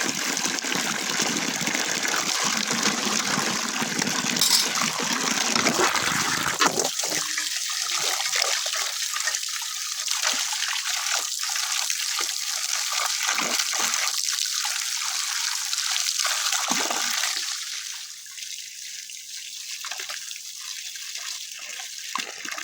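Water runs steadily and loudly while wild-animal meat is washed for a meal, then breaks into uneven splashing and trickling for the rest of the clip.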